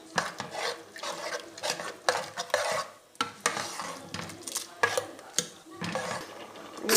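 Masala mixture of horse gram and beetroot being stirred in a pan on a gas stove, with spoon scraping against metal in steady repeated strokes over a soft sizzle, close and fairly loud.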